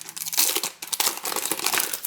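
A newly bought notebook being opened, with loud, close crinkling and tearing of its plastic wrapping in continuous rustling bursts.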